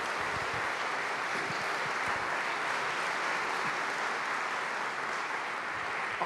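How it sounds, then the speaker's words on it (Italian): Sustained applause from an audience after a speech at an Italian interview event, dense and steady clapping filling the whole stretch without pause. "facciamole un applauso, veramente un bel discorso,"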